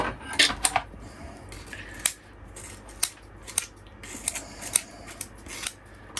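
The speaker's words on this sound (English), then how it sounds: "I'm using my pruning scissors to cut the root." Sharp pruning scissor snips cut through bonsai roots repeatedly, about a dozen crisp clicks at an uneven rhythm, close and alone.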